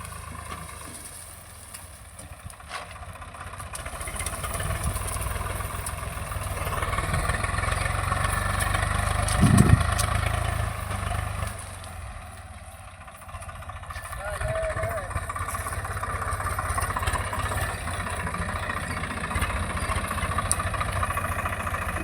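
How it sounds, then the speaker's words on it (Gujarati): A Saurashtra tractor engine runs steadily at close range during cotton harvesting, a continuous low rumbling drone that swells and dips slightly under near-constant talking. "જો આ સૌરાષ્ટ્ર ટ્રેક્ટર છે ને આવી રીતે રાપ આવે મિત્રો"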